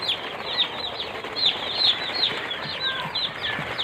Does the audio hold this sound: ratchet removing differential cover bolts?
no